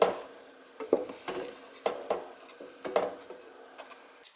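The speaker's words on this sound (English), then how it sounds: "stirring occasionally" A spoon stirs pasta sauce in a large heavy saucepan, giving irregular clinks and scrapes against the pot, fairly close, with quiet gaps between the knocks.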